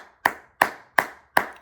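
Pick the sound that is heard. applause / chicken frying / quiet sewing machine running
applause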